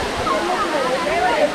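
Koodlu Theertha waterfall pours as a steady, dense rushing hiss, with a voice speaking over the water noise.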